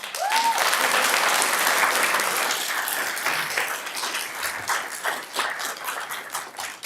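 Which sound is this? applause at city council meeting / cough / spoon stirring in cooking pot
applause at city council meeting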